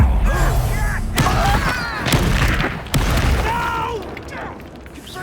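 A fire spell explosion in the Hogwarts Legacy video game, with several sharp booming bursts and crackling impacts over a rumbling background, loud and close, with a voice in the background.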